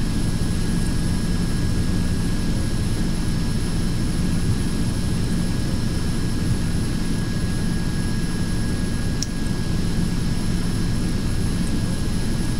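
Aircraft engine starting in the X-Plane flight simulator game, a steady loud broadband engine roar with constant whine tones holding throughout, without talk.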